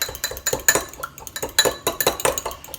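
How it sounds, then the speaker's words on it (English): An egg is whisked briskly in a cup, giving rapid, irregular clinks and taps of the utensil against the sides. The sound is close and fairly loud and comes with no talking. "So I took an egg and I cracked it in a cup. Whisk it real good."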